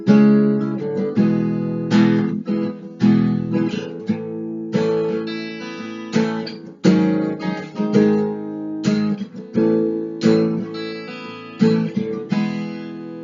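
Guitar chords from the intro of a song strummed in rhythm, with bright, choppy chord hits and short muted gaps in a steady driving pattern, played close and alone without voices.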